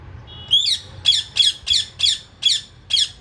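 A pet parrot squawks loudly and close, repeating a harsh call seven times in a steady rhythm about every half second, with nothing else around it.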